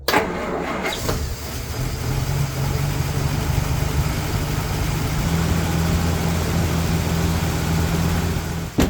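A 1954 Plymouth Savoy with a generator that won't charge cranks and catches in the first second, then settles into a loud, steady close-up idle with a low, even rumble.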